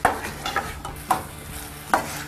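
Chopped green chillies fry in a pan, a low sizzle broken by four sharp scraping stirs of a spoon at uneven intervals, close up with no talking.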